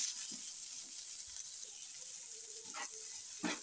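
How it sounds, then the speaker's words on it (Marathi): Chopped onion hits hot oil in a pan for an egg chutney, giving a steady, soft broadband sizzle with a few faint clicks and taps. "पहिला आपण कांदा टाकूया."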